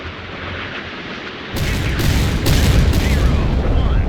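Harpoon missiles slam into a warship in the Sea Power naval combat game, a loud sudden rumbling explosion that jumps in volume partway through and keeps booming, with a commentator talking underneath.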